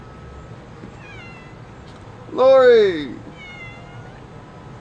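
One loud, drawn-out cat meow rises and falls, close by, after a brief spoken word over a quiet background.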